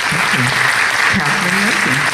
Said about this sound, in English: So let's have a round of applause for the next reader.